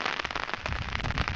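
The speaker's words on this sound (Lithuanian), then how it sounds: "Sveiki visi, lyja, antra para lyja" Steady rain falling on a rural homestead, a dense, continuous patter of drops with crackling, irregular taps close by, filling the clip at moderate level with no pauses.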